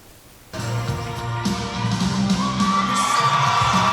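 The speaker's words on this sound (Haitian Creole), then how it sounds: "un grand applaudissement de la salle" Audience in a hall at a university graduation ceremony cheers and whoops loudly after a moment of quiet, a dense crowd roar that builds and stays steady, with shouts rising above it.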